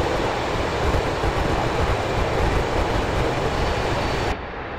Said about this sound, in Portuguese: Esse é o som do motor